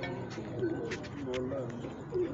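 Pigeons coo in a low, rolling pattern, several soft burbling calls spread across the moment, with a voice talking over them throughout.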